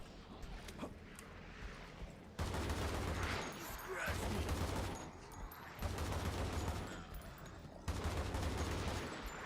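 Bursts of gunfire in a shooter video game, loud sustained volleys repeating every couple of seconds with brief gaps between them, and a voice faintly under the shots.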